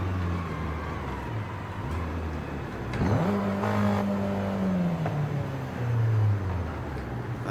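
A Volkswagen Golf Mark 1 GTI races flat out in Forza Horizon 5, its engine holding a loud, steady high-speed drone that sweeps up through gear changes, with no talking.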